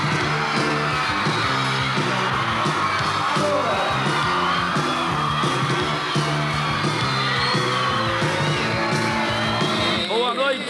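A concert crowd applauds and cheers for a Brazilian rock band, a dense, loud roar of clapping and shouting that carries on without a break for about ten seconds, with someone talking over it.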